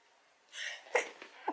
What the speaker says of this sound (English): Oh, I'm gonna sneeze.